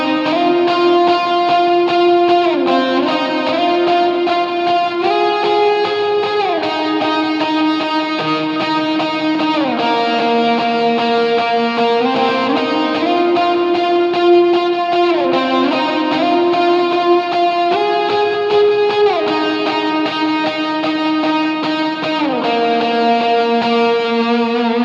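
An electric guitar played through a Helix effects unit with distortion and chorus plays the riff from a worship song in sustained, ringing chords. It shifts between notes at a steady pace and stays loud and continuous, with no voices.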